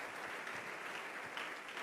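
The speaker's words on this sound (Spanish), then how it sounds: "Dale un aplauso al Rey bendito" A church congregation applauds at a sermon, a faint but continuous wash of many hands clapping together with no talk over it.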